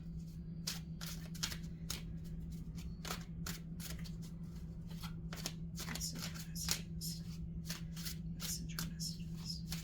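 Tarot cards being shuffled close up, with a steady run of quick riffling snaps and soft slides over a low, constant background hum, fairly quiet and without talk.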